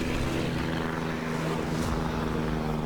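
A steady propeller drone of a scout plane launched from the Yamato battleship in World of Warships fills the scene, a continuous loud engine hum with no voices.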